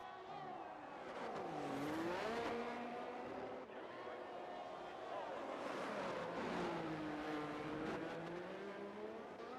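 Formula 1 cars racing at a Mexico circuit in a video game, with several engines whining and shifting pitch continuously as they rise and fall through the revs, a steady loud drone throughout under a commentator's voice.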